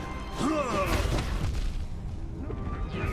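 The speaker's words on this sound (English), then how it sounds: "those explosions did me 4 damage too" Explosions in the video game Hollow Knight during a Zote battle boom and crash in quick bursts, mixed with game effects and an overlapping voice.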